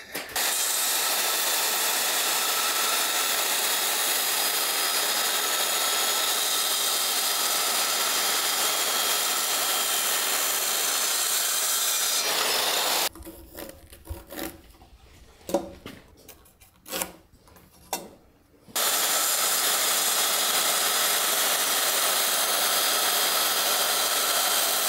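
Power saw cutting timber for a convent bell fitting: a loud, steady, close whine runs for about thirteen seconds, breaks into a stretch of quieter clunks and handling noises, then the saw resumes at full level.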